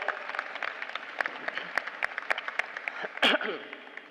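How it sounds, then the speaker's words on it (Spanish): Audience applause for panelists at an education panel discussion, a steady round of many hands clapping with sharp individual claps standing out, moderately close, with a brief voice or noise near the end. "Un fuerte aplauso."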